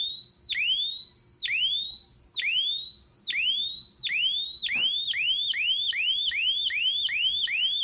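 An electronic siren tone sweeps repeatedly, its slow whooping cycles speeding up into rapid, insistent wails, loud and close.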